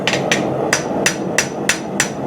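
Seven evenly spaced metallic hammer strikes on a farrier's metal tool ring out in a steady rhythm over a constant background hum, close and clear.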